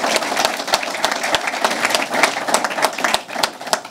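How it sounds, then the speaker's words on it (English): An audience gives a round of applause for a mayor at a state announcement event, with close, distinct claps over a steady wash of clapping. "So give you a round of applause for Mayor Sullivan"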